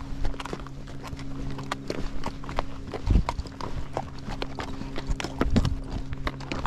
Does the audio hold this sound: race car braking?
no